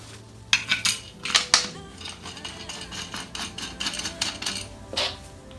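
Metal bolts and washers clink and rattle as they are handled while assembling an Igojin EX 006A multi home gym, a close series of sharp jingling taps and scrapes in irregular bursts, without speech.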